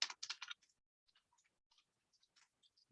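Typing on a computer keyboard close by, a quick burst of loud clustered keystrokes at the start, then sparse, fainter taps and clicks scattered through the rest.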